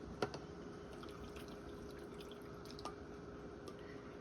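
Brine poured into jars of watermelon rind pickles, soft liquid trickles and a few distinct drips and splashes, quiet and close, with no talking.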